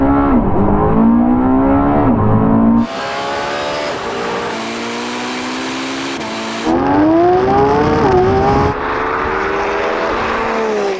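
Lamborghini Revuelto and Porsche launching side by side in a drag race: loud engines roar and climb through the revs, with abrupt shifts in pitch and level as the run goes on, and no voices.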